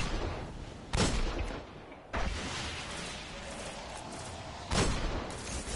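Enemy gunfire during a boss fight in the video game Destiny on PS4: three loud, sharp bursts of shots, spaced a second or more apart, ring out over a steady rumbling battle backdrop.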